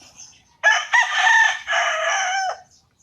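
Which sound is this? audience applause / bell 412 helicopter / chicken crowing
chicken crowing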